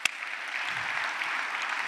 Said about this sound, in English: Can I give him a clap for that?